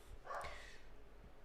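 A dog barks faintly in the background of a quiet room, one brief muffled bark or snort standing alone at low volume.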